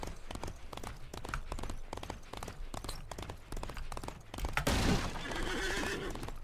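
A horse in the Disney Infinity video game lets out a loud neigh near the end, following a stretch of rhythmic galloping hoofbeats and rumbling game noise.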